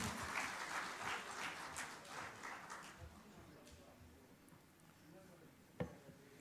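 At a national summit on artificial intelligence, a conference audience applauds to welcome the keynote speaker; the quiet, distant clapping fades out after a few seconds, leaving faint room noise and a single sharp knock.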